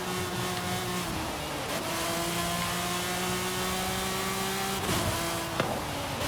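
A car's engine in the Forza Horizon 5 racing game, heard from an outside view, holds a loud sustained high rev with steady harmonic drone, briefly dipping and climbing again as gears shift.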